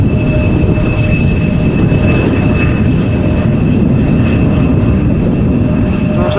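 An Air France airliner arriving from Lyon goes around in windy crossweather at Amsterdam Schiphol, a loud, steady roar of jet engines under power with a constant whining tone as it climbs away.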